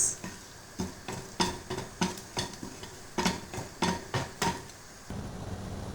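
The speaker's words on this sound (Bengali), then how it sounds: "এখন ভাজবো শুকনো মরিচ" Dried red chilies frying in oil in a pan while being stirred: repeated sharp scraping and clinking of a utensil against the pan at a regular rhythm, close, over a faint sizzle, then a softer steady sizzle.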